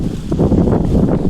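Strong wind blows across a rooftop slab during waterproofing work, a loud, continuous rush and buffeting against the microphone lasting the full moment.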